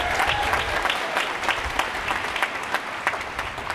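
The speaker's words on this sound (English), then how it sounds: "Please join me in giving them a big round of applause." Graduation audience breaks into sustained applause, a dense wash of clapping from a large crowd that holds steady throughout, with scattered louder claps standing out near the front.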